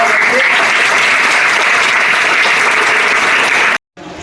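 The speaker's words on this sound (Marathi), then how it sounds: "सर्वांनी त्यांचं पहिल्यांदा टाळ्या वाजवून आभार" Loud, dense applause from a crowd thanking donors at a Maratha community notebook distribution event in Pune, a continuous roar of clapping that runs steadily before cutting off abruptly.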